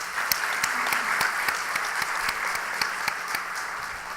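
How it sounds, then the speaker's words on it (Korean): A congregation at a Wednesday evening church service applauds the pastor after his sermon, a steady wash of clapping with a few sharper individual claps standing out. "우리 이은택 목사님 박수 한번 하십시다"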